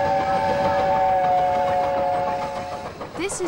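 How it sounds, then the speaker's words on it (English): A Romney, Hythe and Dymchurch miniature steam railway locomotive in Kent sounds a long, loud steady whistle lasting nearly three seconds, then rumbles on with a brief second toot at the end. "This is the Romney, Hythe and Dymchurch miniature steam railway deep in the wilds of Kent"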